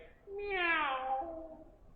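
A child imitates a cat with a single drawn-out, rising-and-falling meow, clear and fairly close, with no talking.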